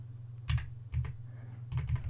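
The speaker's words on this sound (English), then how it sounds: "Oh man, I really hope the keyboard's not too loud though." Computer keyboard keys clack in short bursts during a Halo 2 gaming session, a few clustered taps near and clear over a steady low hum, with no talking.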